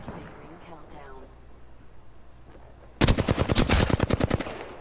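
Gunfire in the video game Apex Legends: after a quieter stretch with talk, a loud rapid volley of automatic shots rings out in a fast steady rhythm for nearly two seconds, close and punchy.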